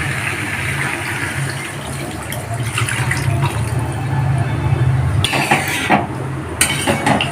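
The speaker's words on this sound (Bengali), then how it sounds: "এবার আগে থেকে কষানো মাংসের ওই জলটা দিয়ে দিলাম।" Reserved cooking liquid from braised mutton being poured into a pot of mutton curry, a steady close splashing pour with a few metallic clinks of the pot and utensils near the end.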